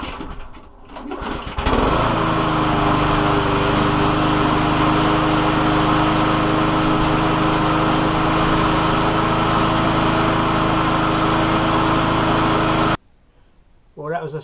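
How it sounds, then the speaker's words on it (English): A lawn mower engine races at a steady high rev, loud and close, starting abruptly after a brief lead-in and cutting off near the end, its faulty racing caused by a bolted-down flap. "that is how to diagnose and fix a racing engine on a lawnmower"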